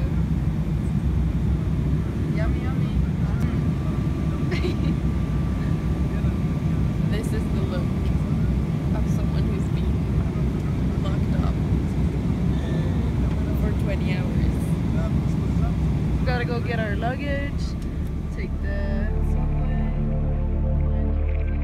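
Inside an airplane cabin in flight, a constant low engine and air rumble drones on throughout, with faint voices and small sounds over it and a brief tonal chime near the end.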